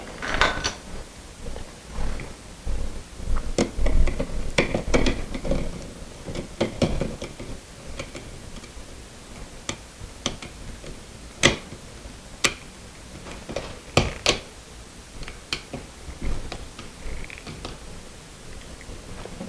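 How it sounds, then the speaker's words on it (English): A screwdriver tightens the terminal screw on a light switch, making faint, scattered clicks and small scraping ticks close by. The sounds come irregularly over a quiet background. "we're going to tighten that screw up right there"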